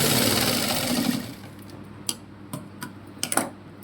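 A sewing machine runs a loose stitch on a boat neck blouse. First comes a loud whirring burst of rapid stitching, then it slows to a scattering of sharp, separate ticks and clicks.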